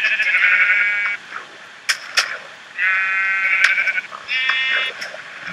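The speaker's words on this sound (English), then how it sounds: "Ooh, sheepy!" Several harmonic bleats from a Minecraft sheep, three wavering calls spaced across the moment with short gaps and a few sharp clicks between them, fairly close and clear.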